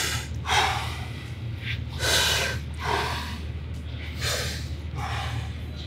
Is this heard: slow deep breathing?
yes